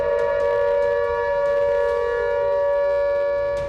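A steady, sustained civil defense siren wail during a mock drill in India holds one high pitch throughout, loud and unbroken, with no voices.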